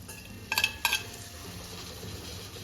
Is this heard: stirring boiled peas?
yes